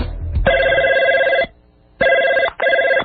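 A telephone rings loudly in an office before an answering machine picks up, with one long electronic trill followed by two shorter bursts in a steady ringing pattern.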